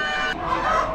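Barred rock and Delaware cross hens cluck amid the steady din of an Amish animal auction, a short burst of fowl calls over busy background noise.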